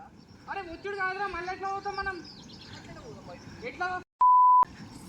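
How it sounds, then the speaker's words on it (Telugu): Voices talk over background music, then a single loud, steady censor beep cuts in briefly before the chatter resumes. "మళ్ళీ ఒక బీప్ వచ్చింది"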